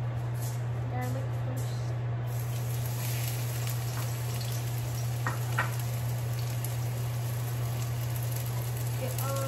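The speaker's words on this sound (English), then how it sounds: "I think we can do the sauteing" Garlic sautéing in a pan, a faint crackling sizzle with a few light stirring clicks, all over a steady low kitchen hum.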